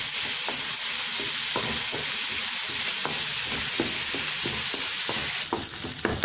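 Onion sautés in a pan with a dense, continuous hissing sizzle, close and even, punctuated by repeated spoon scrapes and taps as it is stirred.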